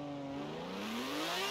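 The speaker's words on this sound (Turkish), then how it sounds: "Şöyle açık drift atalım." A car drifting in Forza Horizon holds a steady engine whine that climbs slowly in pitch, loud and continuous over a short stretch with no other sounds.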